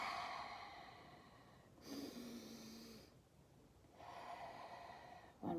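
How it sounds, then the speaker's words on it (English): A person takes a slow, deep breath during a calm yoga session: a long, soft airy inhale followed by a gentle exhale, heard up close and quietly with no talking. "let's take that nice deep breath"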